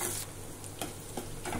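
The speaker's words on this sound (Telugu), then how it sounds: "సన్నగా తరిగిన ఉల్లిపాయలు ఇలా వేయిస్తున్నాను" Thinly sliced onions fry in a pan for a gongura egg curry, giving a steady close sizzle with a few soft stir scrapes and no talk.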